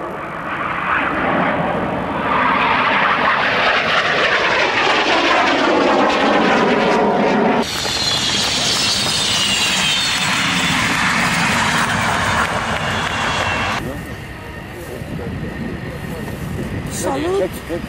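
Solo display aircraft at the RIAT airshow at RAF Fairford in 2002, a loud engine roar that sweeps past with rising and falling pitch, then a long steady drone, with announcer talk over it.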